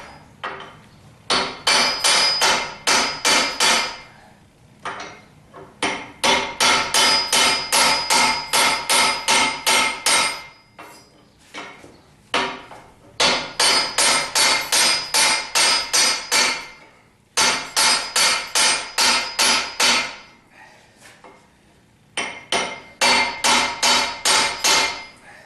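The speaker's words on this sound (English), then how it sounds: "Dead blow hammer's not really good for that." A dead blow hammer strikes a hydraulic cylinder ram during repair of a direct lift cylinder. The blows come in loud, rapid bursts, with short pauses between the groups, and no one speaks.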